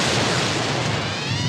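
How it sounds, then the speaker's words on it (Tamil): Bomb explosion in a film, a loud, sustained roaring blast with dense rumbling debris filling the whole moment, no voices over it. "ஆனா வெடிக்கிறது"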